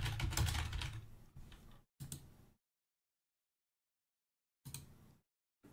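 A file name being typed on a computer keyboard: quick runs of close, crisp keystrokes in separate bursts with silent gaps between them, and no talking.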